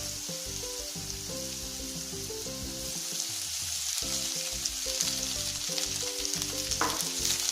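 Rice is stir-fried with already-sautéed vegetables for Indo-Chinese veg fried rice, giving a loud continuous sizzle under a steady low mechanical hum, with no talking.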